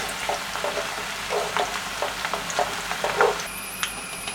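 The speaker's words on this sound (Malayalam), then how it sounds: "അപ്പോൾ ഉള്ളി മൂത്ത് തുടങ്ങി. നമുക്ക് വെളുത്തുള്ളി ഇട്ട് കൊടുക്കാം. അതിൻ്റെ കൂടെ തന്നെ പച്ചമുളകും ഇടാം." Onions, garlic and green chillies frying in hot oil give a steady, close sizzle with light stirring scrapes throughout.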